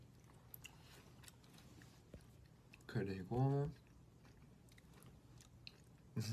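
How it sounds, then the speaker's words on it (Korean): Snacks are chewed slowly and crunchily up close, with a couple of loud bite-and-crunch bursts in the middle, set between stretches of quieter room sound and brief chatter. "천천히 씹어요."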